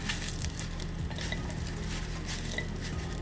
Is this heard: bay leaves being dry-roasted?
yes